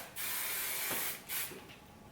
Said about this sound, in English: make sure you're spraying in the direction that would help lay them down